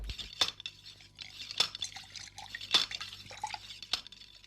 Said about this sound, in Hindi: और पानी के गिरने की आवाज